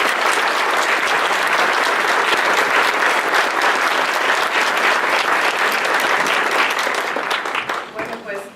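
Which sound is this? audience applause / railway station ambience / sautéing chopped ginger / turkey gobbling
audience applause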